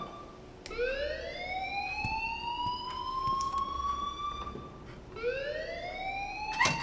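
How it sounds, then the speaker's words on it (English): A wailing electronic alarm rises and sweeps in long siren-like tones inside the video game Life is Strange, loud and continuous with a second rising sweep near the end. "please turn off that alarm since that's your job."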